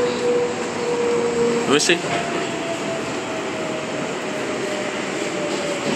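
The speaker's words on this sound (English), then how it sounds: "This train is empty as shit." A New York subway train rolls along with a steady rumbling hum and faint rail squeal inside an almost empty car, while someone talks briefly over the noise.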